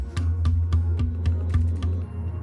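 A drum shell from the R40 tour kit struck repeatedly, about eight to ten sharp hits with a low resonant ring, steady rhythm, close and fairly quiet.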